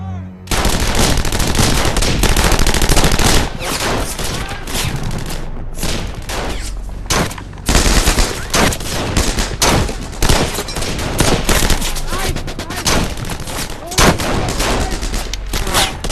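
A wartime fusillade of rifles and machine guns opens fire at close range and keeps going for many seconds, with dense overlapping bursts and loud cracks and only brief pauses.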